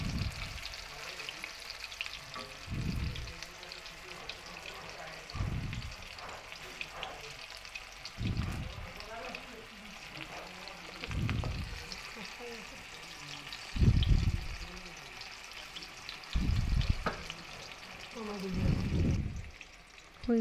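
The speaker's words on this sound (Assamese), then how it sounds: "হৈ গৈছে প্ৰায় ভাজিখিনি" Sliced bitter gourd fries in a pan with a continuous sizzle, broken by regular low thumps and scrapes as it is stirred. A voice talks over the cooking.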